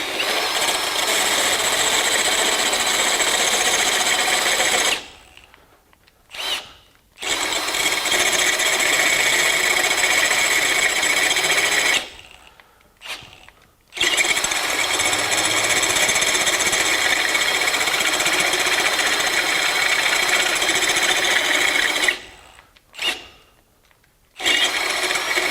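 A step reamer grinds through 1/2 inch steel with a loud, continuous, rasping whir, stopping in three brief gaps before cutting again.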